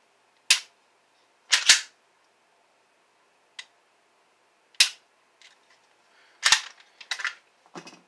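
A Smith & Wesson M&P 2.0 Compact pistol with a reworked trigger gives sharp, distinct clicks as the trigger is pulled and reset, about nine separate snaps spaced irregularly, close and loud against silence.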